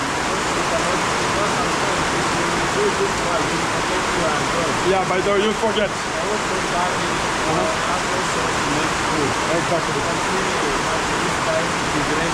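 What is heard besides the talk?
rain falling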